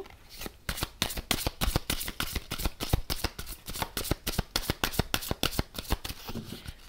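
A deck of oracle cards is shuffled by hand close up, giving a rapid, steady run of crisp riffling snaps that continues for about seven seconds with no talking.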